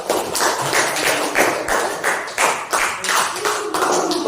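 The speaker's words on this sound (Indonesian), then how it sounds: "tepuk tangan dulu" A classroom of students claps their hands after a group presentation, a series of sharp, irregular bursts of clapping in close succession, loud and near, with no voices over it.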